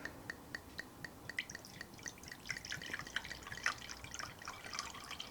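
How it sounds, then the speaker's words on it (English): Fifteen-year-old home-brewed wine poured from a bottle, a quiet run of splashing drips and trickles that grows busier toward the end, close and soft with no talking. "I'll just pour it all"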